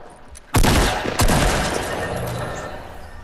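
Fortnite gunfire in a 50 vs 50 match: two loud bursts of shots close together, each with a rolling tail that fades into steady background noise.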